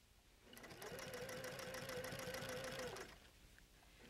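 A sewing machine stitches through quilt fabric in one steady, fast needle run of about two and a half seconds, rising and stopping cleanly, close but quiet.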